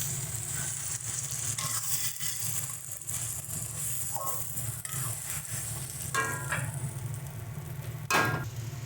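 Pointed gourd and lentil paste sizzle steadily in a wok, with scraping stirs and occasional metallic clinks of a spatula against the pan, close and continuous without talk.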